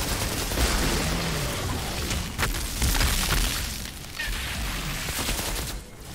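Dense rapid gunfire rattles through a shooter battle in the game Outriders, loud and close with booms mixed in, fading near the end, no talking.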